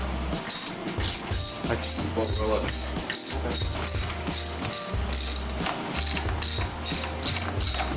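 A hand ratchet loosens intake manifold bolts on an Abarth 500 engine, giving loud, close bursts of rapid clicking in a steady back-and-forth rhythm, each stroke separated by brief pauses.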